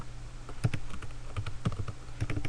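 Fingers type on a computer keyboard, a quick burst of distinct close key clicks in uneven clusters, with no talking.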